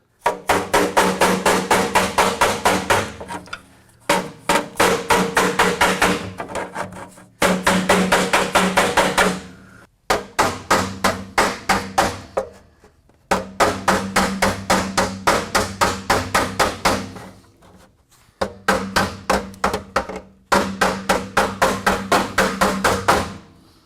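Bent, cracked metal is hammered flat before plug welding, with fast bursts of sharp, loud metallic blows separated by short pauses, close by and with no talk.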